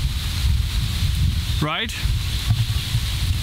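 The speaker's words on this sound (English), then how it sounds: "It's super windy here today. Hopefully it's not gonna interrupt the audio too much." Strong wind on a small island in the Mekong River buffets the microphone in a continuous, loud low-frequency roar, broken midway by a brief spoken word.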